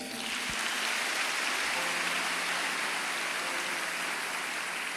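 A church congregation applauding the Lord, a dense, steady wash of clapping that holds at an even level from start to finish, moderately loud and close, with no voices rising above it.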